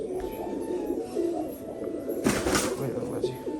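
Rajshahi pigeons coo softly and repeatedly close by, with a brief burst of wing flutter or rustling midway and a faint voice in the background.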